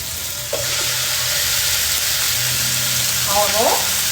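Thin-sliced sirloin strips hit a hot pan with olive oil, bursting into a loud, continuous sizzle that holds strong to the end, with a brief vocal-like squeal near the close.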